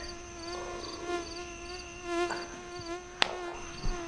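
Mosquitoes whining around a sleeping spot at night, a steady thin high-pitched buzz with several overlapping tones that drift and waver, faint and close, with a few soft bumps and a sharp click partway through.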